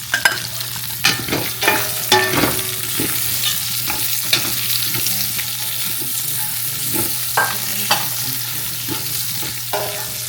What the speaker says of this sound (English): Now put in the onions